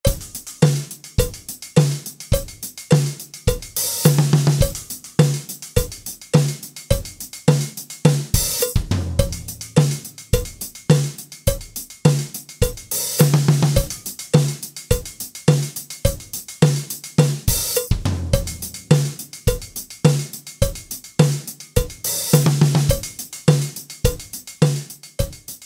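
Drum groove played on a drum kit with a China cymbal and a very dry, tightly tuned sound: steady, punchy kick and snare hits with sharp, trashy cymbal crashes recurring every few seconds, loud and close with no talking.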